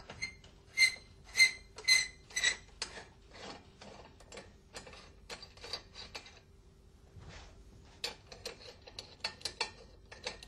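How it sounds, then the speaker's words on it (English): Mechanical clicks and ratcheting as the upper clamp is loosened and removed on an Alfa Laval SRC separator, a few sharp metallic clicks early, then irregular rattling and clattering of parts, close and alone. "Loosen and remove the upper clamp."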